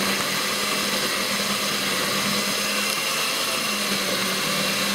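A steady mechanical whir of paddles mixing molasses pork chop stuffing with bacon, even and unbroken throughout at moderate volume, with no talking.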